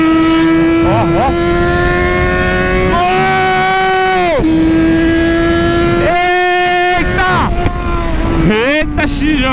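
A Yamaha XJ6 motorcycle engine revs hard during a wheelie, rising in pitch through several gears with short dips between shifts. Heavy wind buffeting sits over the close, loud engine note.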